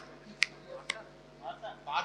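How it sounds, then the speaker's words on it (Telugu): An audience at a movie roast event snaps their fingers on cue. Two sharp, separate snaps stand out, followed by softer scattered snapping and murmur near the end, all at a fairly low level. "గట్టిగా చిటికలు ఒకసారి అందరూ"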